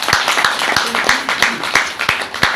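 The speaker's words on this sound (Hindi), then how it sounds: "डीएक्शन को लाने वाले हमारे प्रोफेसर सर्वरत्नम मैडम के लिए जोरदार तालियां होनी चाहिए" An audience bursts into strong applause for a professor at an indoor gathering, rapid sharp claps close and loud, steady throughout.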